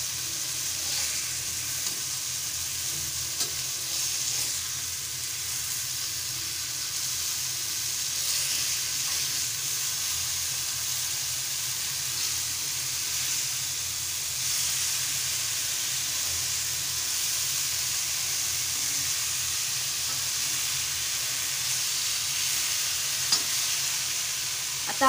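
Bombil fish frying in oil in a pan, Malvani style, with a steady close sizzle and soft scraping as the pieces are stirred and turned, continuing evenly throughout with no talk.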